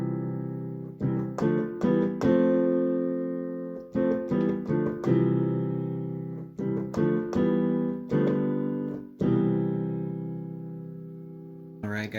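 Piano playing the chords of a song, with sustained block chords struck in a steady, unhurried rhythm. Some chords are repeated, and the notes ring clearly and close with no voice.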